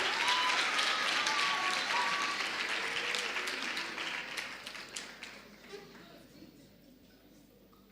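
An audience at a dialogue event on sexual consent claps warmly, the applause loud at first and then thinning and fading out, with faint voices and a few scattered claps near the end.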